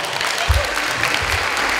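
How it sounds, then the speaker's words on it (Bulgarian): An audience claps for a group of girls who have volunteered: dense applause over the whole stretch, fairly close and loud, with a few heavier low thumps. "аплодисменти за тях"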